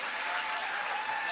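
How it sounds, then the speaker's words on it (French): A television talk-show audience applauds actor Benoît McGuinness as he is welcomed on stage, a thick, even wash of clapping that holds steady without a break. "On l'applaudit, Benoît McGuinness, mesdames et messieurs!"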